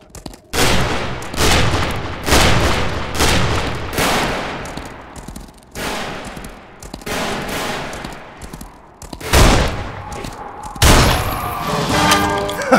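Repeated bursts of gunfire in the Western shooter game Fistful of Frags, loud, close volleys of rapid shots spread across the whole stretch with brief gaps between them.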